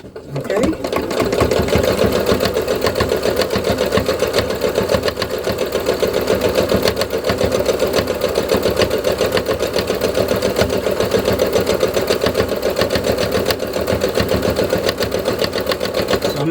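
A sewing machine runs continuously while stitching fabric, a steady rapid mechanical whirr and clatter held at a constant pace for the whole stretch, loud and close.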